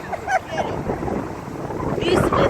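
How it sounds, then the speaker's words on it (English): Strong wind blows outdoors and buffets the microphone with a steady, rumbling roar, as voices talk through it close by. "it's too windy, y'all"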